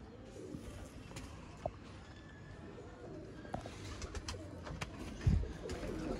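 A pair of big gaay breed pigeons coo softly in a loft, low murmuring calls against a quiet, noisy background with a brief thump near the end.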